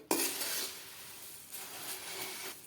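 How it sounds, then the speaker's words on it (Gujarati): Puffed rice (mamra) being stirred while dry-roasting in a pan, giving a continuous dry rustling and scraping with soft crackle, steady and fairly quiet, with a few stronger stirring swells and no talk. "હવે મમરાને આ રીતે હલાવતા રહી અને આપણે શેકી લેશું, જેથી કરી મમરા આપણા એકદમ ક્રિસ્પી થઈ જાય."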